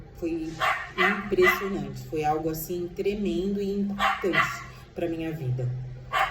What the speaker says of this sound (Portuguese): olha o meu cachorro latindo